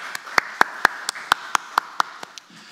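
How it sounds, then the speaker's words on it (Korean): Hands clap during a Sunday morning church worship service: about ten sharp, evenly spaced claps in a steady rhythm, fairly close and moderately loud over a quiet background. "하나님께 박수로 영광 돌리겠습니다."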